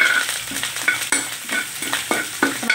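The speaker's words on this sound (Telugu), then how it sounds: "ఆవాలు అదే నూనెలో వేసేస్తున్నాను నేను" Mustard seeds crackle and sizzle in hot oil in a pan, a steady busy frying hiss with intermittent sharp pops and stirring scrapes, fairly close and alone.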